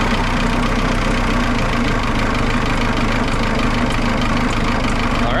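An old sawmill engine idles while warming up, a loud, steady low-pitched chugging and knocking rumble with constant vibration, close by and alone.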